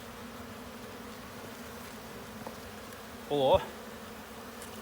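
Honey bees in a beehive named Crete give off a faint, continuous buzzing hum throughout, with a person speaking briefly partway through.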